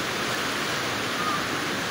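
Swollen river water after heavy rain, fed by runoff from the mountains, rushes in a steady, broadband roar close by with no break, sounding like a torrent or small waterfall.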